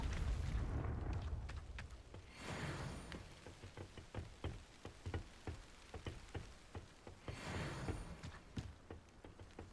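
Explosive blasts and crackling bursts from a Confringo fire spell in the Hogwarts Legacy video game, with a heavy rumble and then a run of sharp, rapid impacts.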